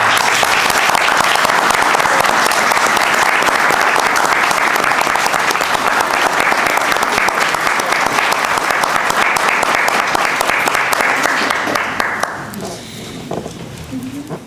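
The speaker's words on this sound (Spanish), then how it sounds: "Yo pido un aplauso para ella." Sustained applause from an audience at a book presentation, loud and dense for about twelve seconds before fading to quiet murmurs at the end.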